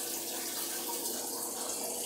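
A tap runs steadily as water pours out to wet hair, giving a continuous close hiss with no talking.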